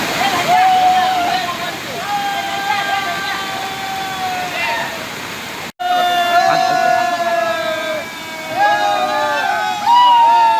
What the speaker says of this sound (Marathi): तो धबधबो जोरदार कोसळता.